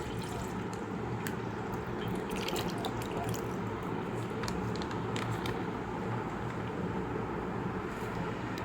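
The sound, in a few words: pouring one liter of liquid milk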